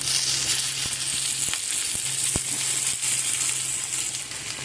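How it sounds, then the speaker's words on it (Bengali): Chopped onions sizzle steadily in hot oil in a pan for a fish curry, with tomatoes about to be added; a close, continuous, even frying hiss with a few faint stirring clicks and no talking. "পেঁয়াজ ভাজা হয়ে এসেছে এখন এর মধ্যে আমি দিয়ে দেবো কেটে রাখা টমেটো"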